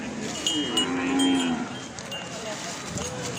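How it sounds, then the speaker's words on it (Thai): A water buffalo moos, one long low call rising and holding near the middle, loud and close outdoors with a cowbell clinking in the background and no talk. "ควายกับควาย"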